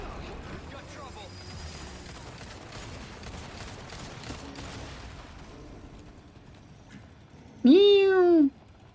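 A cat meows once inside a video game, a loud, clear, rising and falling call near the end, after a stretch of quiet talking and scattered game noise.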